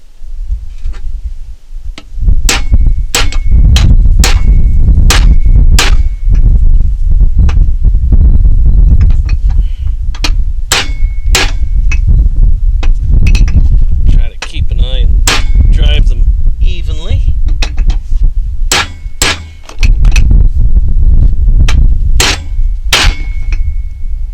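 A seal driver taps a bearing race into a New Holland 56/256 rake gearbox, sharp metallic clangs ringing out in loud, irregular bursts, some close together and some spaced apart, with brief pauses.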